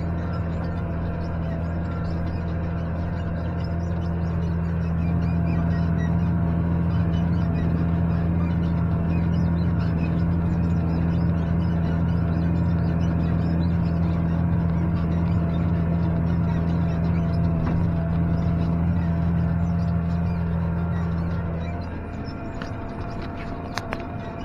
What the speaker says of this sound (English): This is a little baby four-wheel drive tractor.